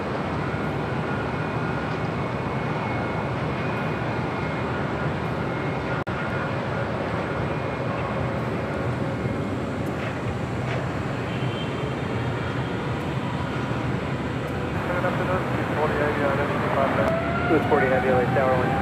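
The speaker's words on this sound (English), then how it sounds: "Next arrival is United Airlines Flight 1221 coming up from Honolulu in a 20-year-old" United Airlines Boeing 757-300, about twenty years old, arriving at LAX from Honolulu: a long, steady jet engine roar that holds loud throughout and swells slightly near the end.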